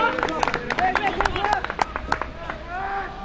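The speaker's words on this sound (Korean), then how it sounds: "배재대학교 벤치에서는 박수가 나오고 있습니다만" Players and staff on the Paichai University bench clap during a university football league match against Dankook University, with quick, uneven claps under a commentator's voice and a background crowd murmur.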